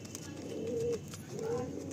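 A male pigeon coos in two close, rolling phrases, one after the other, over a light background murmur.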